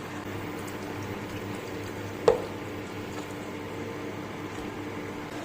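Mutton in stock simmers with a soft, steady bubbling in a covered pot, with a single brief clink or tap partway through.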